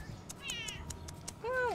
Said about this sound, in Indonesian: kalau kucing ini agak kurus ya